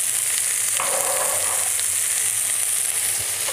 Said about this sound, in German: Dass die schön anbraten, jetzt auseinander machen.